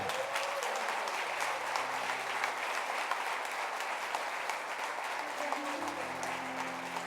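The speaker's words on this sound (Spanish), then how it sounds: "Denle un aplauso al Señor." Sustained applause from a church congregation fills the room, steady and fairly loud throughout, with some voices mixed in underneath.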